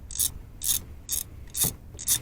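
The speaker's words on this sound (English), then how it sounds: "we'll use hand tools to install because I do not want to cross thread these" A hand ratchet turning parts in by hand on a Nissan Rogue with a misfire gives five evenly spaced bursts of close, crisp clicking with quiet gaps between them.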